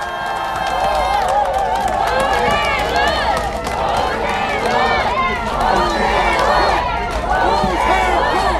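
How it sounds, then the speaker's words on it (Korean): A dense crowd at an outdoor election campaign rally claps and cheers continuously, with many voices shouting and whistling in a steady, loud roar throughout. "여러분 박수 한번 주시기 바랍니다"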